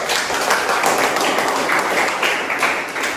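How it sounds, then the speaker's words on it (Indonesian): A classroom of students claps together after a group presentation, a steady burst of close, brisk applause lasting a few seconds with no talk over it. "Oke, tepuk tangan dulu."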